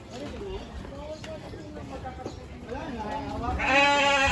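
Sheep at a family natural hot spring, bleating repeatedly up close with wavering calls that swell loudest toward the end, while people chat nearby.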